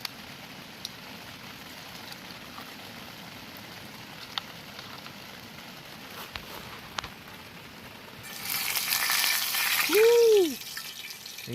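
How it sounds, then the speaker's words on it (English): Oil heating in a pot at a riverside camp, meant for frying fish: a faint, steady low hiss, then a sudden louder burst of sizzling near the end, cut across by a brief vocal whoop. "I'm going to test if the oil hot so we can fry the fish then."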